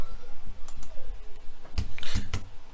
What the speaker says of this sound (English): Although I'm typing in my keyboard